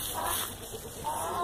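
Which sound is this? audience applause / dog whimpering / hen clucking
hen clucking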